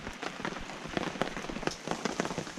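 Rain pours down during a storm. It makes a dense, continuous patter of drops hitting a nearby surface, steady with scattered sharper splats, fairly quiet and heard alone.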